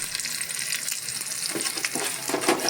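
Halved, slit green chillies fry in hot oil with a steady, close crackling sizzle, brief sharper pops and stirring clatter rising toward the end, no voices.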